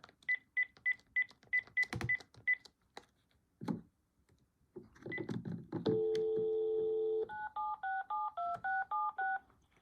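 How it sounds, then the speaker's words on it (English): Telephone touch-tone dialing: a run of short DTMF beeps, then a few clicks, a steady tone and another rapid sequence of dual-tone digits as a 7-digit number goes through. "we're going to dial 9, and then, just for the sake of it, we'll dial just with 7 digits"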